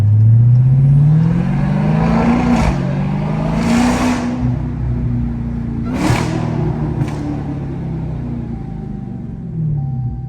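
A Dodge Hellcat's engine rumbles close by on downtown Birmingham streets, its pitch rising and falling through several revs and pulls, with a few sharp bursts standing out over the steady low drone.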